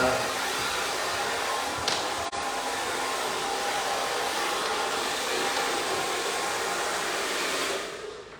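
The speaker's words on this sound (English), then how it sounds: "I'm just going to first blow the hair over, so we hide the evidence" Hair dryer blowing long layered hair at a haircut, a loud, steady broadband whoosh running nearly the whole time with a brief dip midway before it fades near the end.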